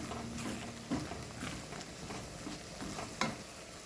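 Bitter gourd pieces cook in a pan for a Karnataka-style palya with jaggery and asafoetida, giving a low, steady sizzle. A spatula scrapes and taps the pan now and then, with a couple of sharper knocks.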